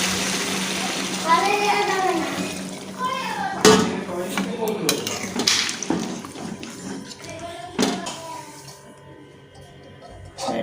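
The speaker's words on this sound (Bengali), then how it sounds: "এবার আমি জল দিয়ে দিলাম।" Water splashes and runs into a cooking pot of chicken kosha amid clinks of a metal pot and utensil, with a person talking over the pouring and stirring.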